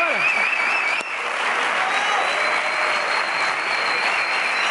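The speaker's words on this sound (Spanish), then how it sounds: "están aplaudiendo" A crowd applauds steadily and loudly throughout, a dense continuous wash of clapping with a few whistles and shouts mixed in.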